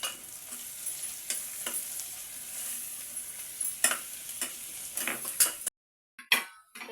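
Crushed garlic and cumin frying in a pan, a soft sizzle broken by repeated scrapes and clinks of a spoon against the pan, briefly cutting out near the end, no talk.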